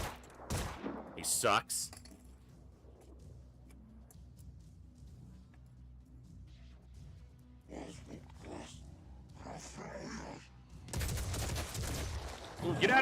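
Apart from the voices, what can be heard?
gunfire in the video game Phoenix Point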